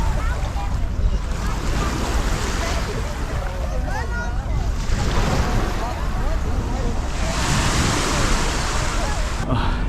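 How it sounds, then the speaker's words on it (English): Waves rolling in on a Bahamas beach make a continuous broadband wash with steady surges, close and fairly loud, with wind buffeting the microphone throughout. "The waves are coming in at kind of a nice rate."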